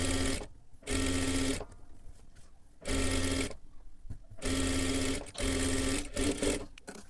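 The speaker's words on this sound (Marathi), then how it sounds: "आता इथे आपल्याला पूर्ण पाठीच्या बाजूला शिलाई करून घ्यायचं आहे." An electric sewing machine stitches the back seam of a blouse in steady, whirring bursts of about a second each, separated by short pauses, close and loud.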